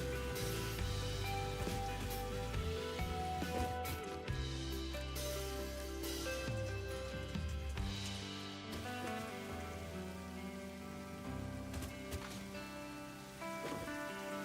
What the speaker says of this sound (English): okay, it's raining, so all ground needs to be wet.